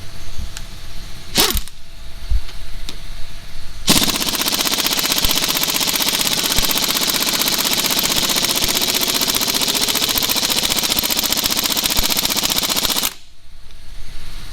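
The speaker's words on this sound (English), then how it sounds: "Go up to the 3/4 inch gun." A 3/4-inch impact gun hammers at a stuck crankshaft bolt in a continuous, loud, rattling burst of about nine seconds, with a short air blip before it and shop background noise around it.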